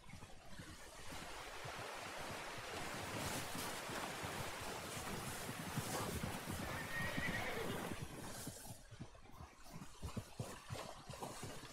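A horse whinnies amid hoof clip-clops in Red Dead Redemption 2, with a rushing wind or surf-like wash underneath, all fairly soft and distant.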